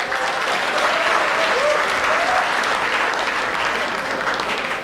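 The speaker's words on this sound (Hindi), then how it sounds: "तालियां आती हैं इसमें" Audience bursts into strong, dense applause during a speech, a loud continuous roar of clapping from a large crowd, with faint voices mixed underneath, easing slightly at the end.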